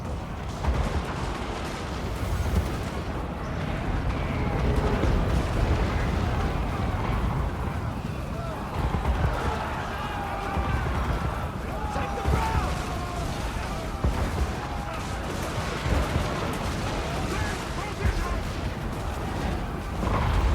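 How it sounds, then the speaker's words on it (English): Heavy artillery fire rumbles throughout a Warhammer fantasy battle, a continuous dense barrage of booms and distant blasts with battlefield din beneath, steady and loud for the whole stretch. "That is a lot of artillery"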